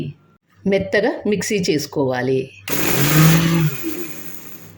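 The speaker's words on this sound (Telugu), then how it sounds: "మెత్తగా మిక్సీ చేసుకోవాలి." After a stretch of talking, a kitchen mixer grinder whirs loudly and steadily, grinding roasted dry red chillies with salt in its jar until the clip ends.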